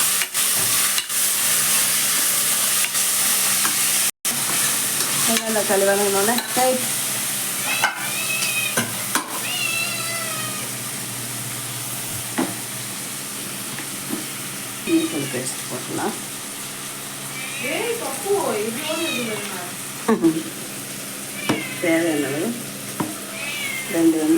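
Tomatoes sauté in hot oil in a home kitchen, giving a constant close sizzle with occasional scraping as they are stirred, while high-pitched cries and voices break in over the frying.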